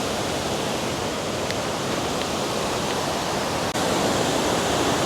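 Kuang Si waterfall in Laos pours in a steady, broadband roar of rushing water, constant and fairly close, with no voices over it.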